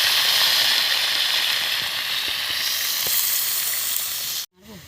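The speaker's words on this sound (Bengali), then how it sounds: "করলাগুলো দিয়ে একটু ভালো করে ভাজবো" Sliced bitter gourd frying in hot oil with five-spice, a loud steady sizzle with a few faint stirring clicks, cutting off abruptly near the end.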